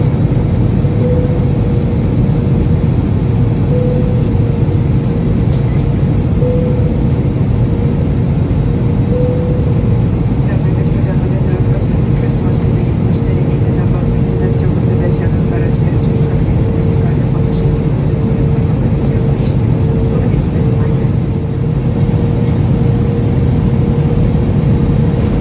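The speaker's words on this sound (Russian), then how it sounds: "Самолет развернулся на посадку прямо над городом и благополучно приземлился в аэропорту" A passenger airplane landing at Baikal airport in Ulan-Ude: a steady, loud engine drone with a constant tonal hum fills the whole stretch, heard from inside the cabin.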